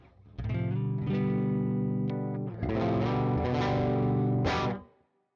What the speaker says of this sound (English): this is the blue side, so the light side, only a little bit of gain on it, and it sounds like this.